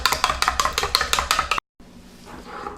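Hot gelatin being mixed into condensed milk and whipping cream, heard as a quick run of rhythmic stirring and whisking strokes, then a brief silence and softer handling noise.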